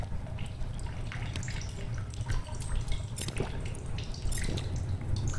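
Water collected from a source in The Solus Project, a soft continuous trickle with scattered drips and small splashes at moderate loudness.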